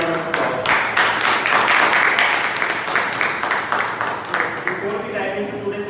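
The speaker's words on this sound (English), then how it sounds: "So let's give a big round of applause" A room of Toastmasters club members gives a dense, sustained round of applause at a meeting, many hands clapping at once and gradually thinning toward the end, with some voices mixed in.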